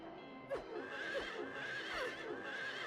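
Horses neigh and whinny in Silent Hill 3, several separate calls spaced about half a second apart over soft hoof clip-clop, fairly close and clear, with no talk.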